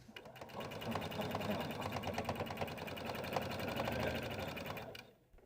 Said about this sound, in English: So let's go sew this now